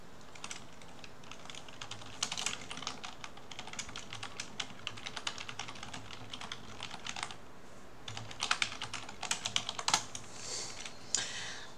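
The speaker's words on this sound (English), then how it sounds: "I'm typing it." Steady typing on a computer keyboard, rapid irregular clacks of keys continuing for several seconds with brief pauses and a denser burst near the end, close and clear with no speech.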